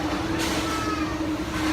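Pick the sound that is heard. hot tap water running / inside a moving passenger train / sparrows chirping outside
inside a moving passenger train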